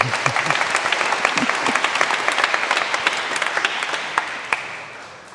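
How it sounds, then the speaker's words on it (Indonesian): Congregation applauding during a Sunday Eucharist celebration at a Catholic cathedral, a dense wash of many hands clapping steadily at moderate loudness, tapering slightly toward the end with a few faint voices underneath. "Oh, kita beri tepuk tangan ya"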